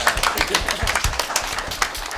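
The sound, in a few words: audience applause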